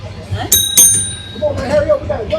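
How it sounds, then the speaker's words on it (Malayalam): An old San Francisco tram bell rings twice in quick succession, loud and bright with lingering metallic overtones, over street background noise, with a voice talking nearby afterward. "ഡബിൾ ബിൽ അടിച്ചു അങ്ങനെ സാൻ ഫ്രാൻസിസ്കോയിലെ വളരെ വിഖ്യാതമായ പഴയ ട്രാമാണ്"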